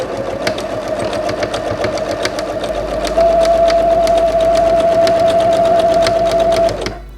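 A sewing machine stitches binding onto a terry cloth kitchen towel, its needle chattering rapidly before a louder, steadier motor run takes over and then stops abruptly near the end.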